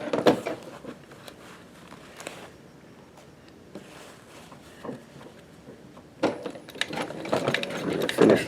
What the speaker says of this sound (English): Now we'll just finish sewing up the rest of this cuff.